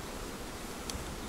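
Steady, dense buzzing of many honeybees at a taiga apiary, close and continuous, with no voices.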